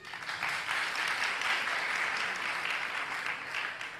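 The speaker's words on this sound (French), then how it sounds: "Applaudissons pour lui." Brisk audience clapping rises quickly and holds at an even, full level for several seconds, a crowd applauding together at close range with no voices over it.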